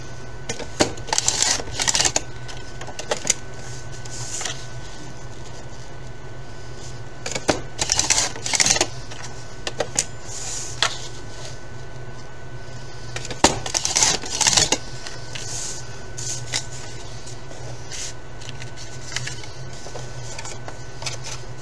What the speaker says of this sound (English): And then I'm going to cut three more at 3 inches.